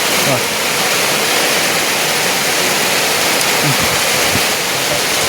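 Heavy rain pouring down in a steady, loud, dense hiss that fills the whole stretch, with faint voices briefly audible beneath.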